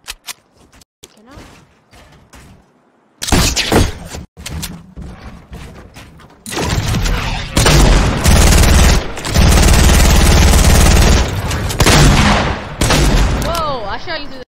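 Gunfire in a 1v1 shooter video game, with loud bursts of rapid shots and booming blasts arriving in long sustained stretches, mixed with other game effects.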